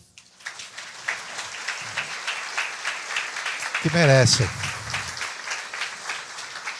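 Applause from an audience fills the space as a dense, rain-like patter of many hands, while a voice speaks briefly over it partway through.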